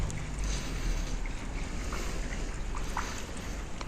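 Tap water gushing out to water trees in a yard, a steady rushing wash of flowing water that holds at an even level throughout, close and continuous with no voices.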